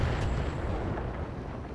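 Mech weapons fire at a target in the Battletech video game, a dense, loud, sustained roar of blasts and booms filling the whole short stretch.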